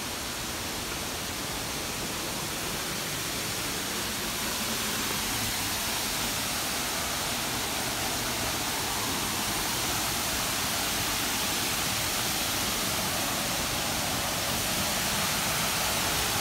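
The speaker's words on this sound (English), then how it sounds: "Check natin yung waterfalls." Steady roar of a waterfall at Gunhuban Falls in Leyte, a dense broadband rush of falling water that holds constant and loud throughout with no talk.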